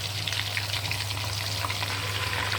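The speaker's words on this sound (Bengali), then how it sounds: "লালচে করে ভেজে নিচ্ছে" A whole chicken frying in hot oil, a steady close sizzle and crackle with a constant low hum underneath and no voices.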